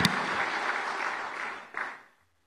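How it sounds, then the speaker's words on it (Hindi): Applause from the audience at an official convention in India welcoming a speaker to the podium, a sustained moderate clapping that swells briefly near the end and then stops abruptly into silence. "तालियों के साथ पुनः अभिनंदन"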